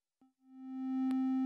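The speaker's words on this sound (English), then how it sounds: "Let's select the triangle waveform." A triangle waveform tone from the Omnisphere synthesizer: a brief blip, then a steady pitched tone that swells in and holds, with a faint click partway through. No voices.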